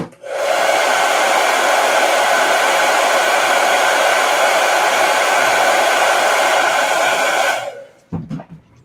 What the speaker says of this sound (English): Now let me hit that with a blow dryer.